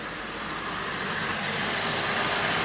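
A Holden Commodore VZ/VY engine runs steadily with the AC compressor clutch spinning, a loud continuous mechanical drone and whir heard close up with no voices.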